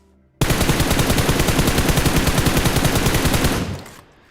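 Rapid automatic gunfire in the battle royale game BGMI rattles out as one loud, continuous burst of evenly spaced shots lasting about three seconds, then cuts off into a short fading tail.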